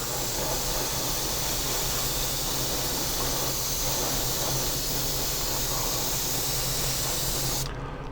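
An airbrush spraying paint onto a 1/25-scale AMT 1962 Thunderbird model car body, a close, steady hiss running continuously and cutting off at the very end.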